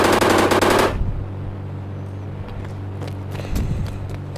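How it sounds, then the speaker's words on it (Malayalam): Rapid machine-gun fire in a video game, aimed at Godzilla, opens with a dense loud burst for about a second, then drops to a low rumbling game background with a few faint thuds. "അതാ വെടിവെക്കുന്നു"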